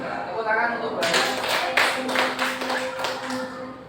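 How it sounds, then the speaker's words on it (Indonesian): Classroom applause for a teacher, a burst of rapid clapping from a group that starts abruptly and continues in uneven waves, with voices talking underneath. "Tepuk tangan untuk Bu Hana."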